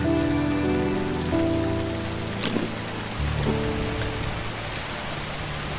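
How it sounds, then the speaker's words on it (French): Heavy rain pours down in a steady, dense wash of hiss and patter, close and unbroken, with soft sustained musical tones running underneath. "Il pleut très fort"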